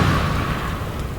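A Bombarda or Confringo blasting spell in the wizarding game Hogwarts Legacy, a loud, dense booming burst with a rushing roar that holds steady for about a second without fading.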